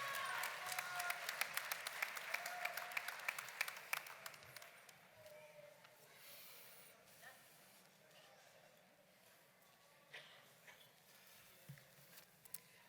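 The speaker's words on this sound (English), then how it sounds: "Can we please have a round of applause for our Associate of Science graduates and all of our graduates today?" Applause for graduates at a college commencement ceremony, a crowd clapping in a dense burst that thins into scattered claps and fades, faint and heard from a distance.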